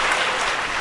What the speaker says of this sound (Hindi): तालियां बहुत बजा देते हो आप जरा।